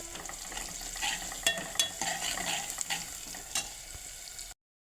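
A spoon stirs turmeric through cluster bean curry frying in a pan, soft scraping strokes and a few sharp clinks over a faint, steady sizzle.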